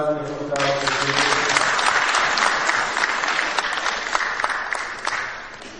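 Sustained applause from a crowd at the SPLM reunification agreement signing between Salva Kiir and Riek Machar in Tanzania, a dense steady clapping that swells in after a brief voice and holds loud throughout.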